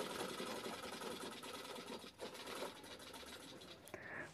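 A sewing machine stitches piping onto a bag made from a saree, with a steady, quiet, rapid mechanical chatter that runs continuously before stopping abruptly near the end.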